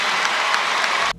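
A studio audience breaks into dense, steady applause, loud and close, holding without pause for about a second before cutting off abruptly.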